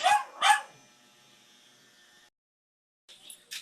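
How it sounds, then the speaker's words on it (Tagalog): A dog barks twice in quick succession, loud and close, followed by a lingering tonal hum and a couple of faint yips near the end. "Napakaingay ng aso nito."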